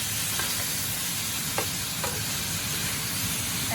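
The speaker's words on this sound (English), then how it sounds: "I have my frozen vegetables for stir fry." Frozen stir fry vegetables fry in a pan, giving a steady, close sizzle with a few faint clinks as they are stirred, and no one talking.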